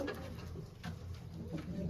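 Pigeons coo softly and steadily in low, repeated murmurs, close by.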